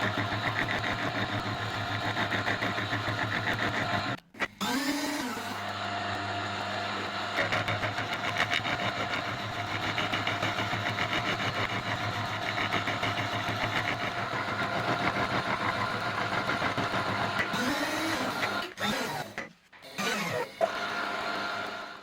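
Slitting saw cutting a metal workpiece clamped in a vise, a continuous buzzing mechanical whine with a steady machine drone, briefly interrupted by a couple of short pauses and changes in pitch.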